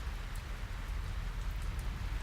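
Steady, soft rain from a thunderstorm patters continuously, a dense even hiss with low rumbling underneath and no voices.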